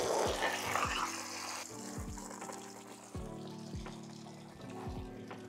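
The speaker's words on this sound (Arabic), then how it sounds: "بركي بنجرب نعبيها مي" Tap water runs steadily into a container, a continuous rushing hiss with a few low knocks and thumps along the way.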